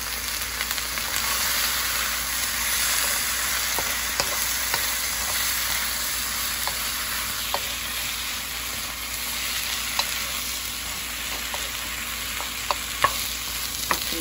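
Small peas and broccoli fry in a stir-fry pan for a teriyaki stir fry, giving a steady, close sizzle that runs unbroken with faint crackles and stirring clicks, no voices.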